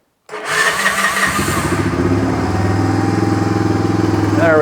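A vehicle engine that has sat all winter cranks and catches after a jump start from an Auxito AJ01 jump starter, then settles into a steady, close idle that runs to the end.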